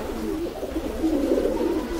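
Pigeons kept by a fancier coo softly and continuously, a low, throaty warble close by with a faint background hiss and no talking.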